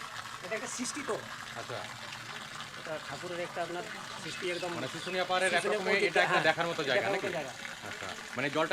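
Spring water falls continuously on Susunia hill, a steady trickling splash heard close by, partly under a conversation between people.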